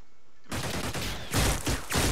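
Alien gunfire in the turn-based strategy game Xenonauts starts abruptly after a half-second of silence, then runs as a loud, dense fusillade of repeated shots in three heavier bursts.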